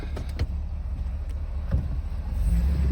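A 2005 Chevy Silverado 2500 truck drives along with a steady, loud low engine rumble and road noise, swelling slightly toward the end.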